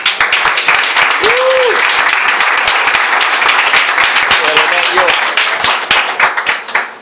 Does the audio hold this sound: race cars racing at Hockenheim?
no